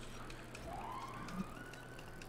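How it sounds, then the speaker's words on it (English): A police siren in the video game GTA V rises in a single faint, distant sweep over a steady low background hum, brief and alone. "Oh, I hear sirens."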